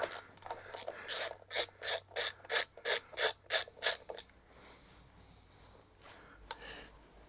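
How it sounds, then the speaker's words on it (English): Ratchet wrench on a socket extension while removing a Kawasaki Z1 900 engine: about ten quick, evenly spaced rasping clicks up close, followed by quieter fiddling and handling noises. "It does help to put the wrench on the end of the extension with the square in, not the socket"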